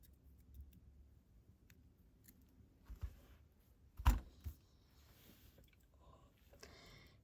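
A jewelry wire wrapped around a beaded earring stem is trimmed with a single sharp, close snip midway through, surrounded by quiet handling noises and faint clicks.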